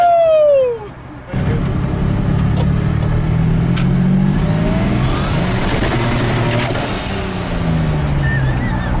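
A turbocharged 3.9 Dodge Dakota truck engine roars steadily at high revs on a dyno, with a hammering, juddering rumble as the rear axle hops under load; close and loud throughout.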